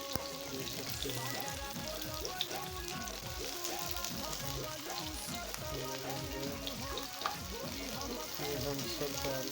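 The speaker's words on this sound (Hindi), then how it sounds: "इसको थोड़ा हम भून लेंगे, थोड़ा मुलायम हो जाएगा" Chili and onion fry in a pan, a continuous close sizzle and crackle with light stirring, fairly quiet overall.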